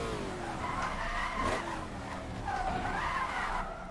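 Tyres of a Shelby Daytona skid under handbrake on the Isle of Man TT course in a racing game, a rising and falling squeal over a loud engine roar, near and continuous.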